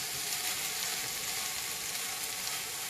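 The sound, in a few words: onions sizzling and charring in a pan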